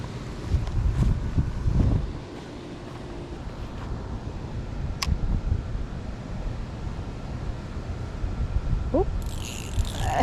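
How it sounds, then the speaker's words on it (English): Wind gusts buffet the microphone outdoors on a fishing outing, a loud low rumble that swells and eases for several seconds and then settles into a steadier blustery hiss. "This line's just getting blown by the wind."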